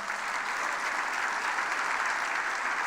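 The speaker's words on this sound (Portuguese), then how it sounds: "Vocês podem aplaudir ao Senhor?" A church congregation applauds together in a steady, continuous round of clapping, heard from some distance and fairly soft, with no voices over it.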